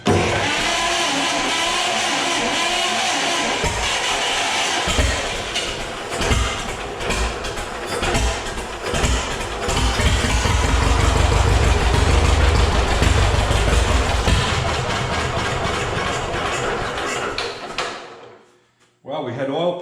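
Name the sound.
John Deere engine starting and idling slowly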